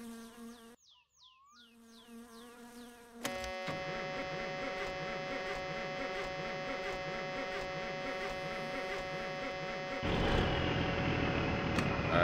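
Low air pressure warning buzzer in a truck in the video game My Summer Car, a continuous harsh electric buzz that starts abruptly and drones steadily, growing louder near the end, after brief squeaky sounds.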